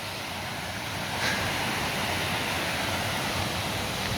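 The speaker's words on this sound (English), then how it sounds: "I've been seeing a lot of small waterfalls along this creek." Steady rushing water roars continuously from small waterfalls along a creek, a broad even wash like cascades tumbling nearby, with no voices.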